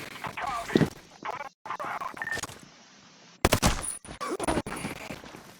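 Gunfire in the video game Ghost Recon Breakpoint: short bursts of sharp shots with silent gaps between them, mixed with game sounds and someone talking over parts of it.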